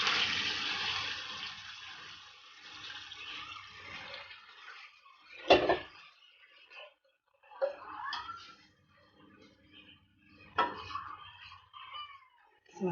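A cup of boiling water poured into a pan of honey garlic pork chops hits with a loud hissing splash, followed by quieter sizzling, bubbling and clinking utensil sounds in pauses.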